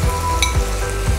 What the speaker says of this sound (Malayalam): തക്കാളി ഒന്ന് വാടി വരുമ്പോഴത്തേക്ക് നമുക്ക് അതിലേക്ക് മൈക്രോഗ്രീൻ കൊണ്ട് ചേർത്ത് ഇളക്കി കൊടുക്കാം